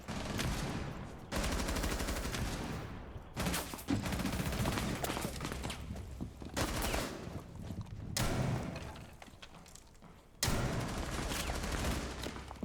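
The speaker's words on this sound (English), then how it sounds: "I outsniped the sniper." Bursts of video game gunfire in a sniper shootout, loud clustered shots in several separate volleys broken by short gaps, with no talking over them.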